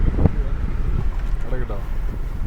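Wind rushes into a car through open doors and an open sunroof, a loud, steady low rumble and buffeting that fills the whole stretch, with faint voices underneath.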